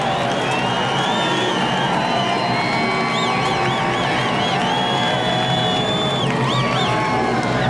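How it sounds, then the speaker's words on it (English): A NASCAR race crowd at Watkins Glen cheers as Tony Stewart's car passes, a loud, continuous roar of fans with whoops rising over it. "Listen to this crowd as Tony Stewart now comes by."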